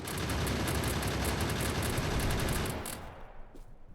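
Gun turrets fire on enemies in the Factorio video game, producing a dense, loud, continuous rattle of shots that suddenly thins and fades away near the end.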